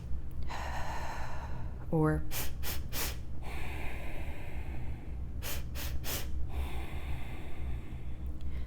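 A voice demonstrates a breathing exercise aloud with sharp nasal sips of air in quick succession and longer exhales. The breaths are close and clear, separated by pauses, and a short spoken word comes in between them.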